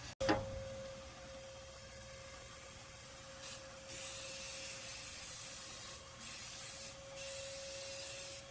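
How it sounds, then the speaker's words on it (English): A steady hiss from an aerosol can of fabric protector runs for several seconds, with short pauses and restarts, over a faint constant hum after a sharp click. "so I'm going to spray it up"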